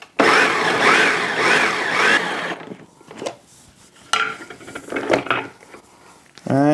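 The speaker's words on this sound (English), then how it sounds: "if I had a bigger food processor, you could do it all at once" A small food processor whirs loudly for about two seconds while chopping smoked tomatoes for salsa, then stops, followed by a couple of shorter bursts and knocks of the bowl and lid.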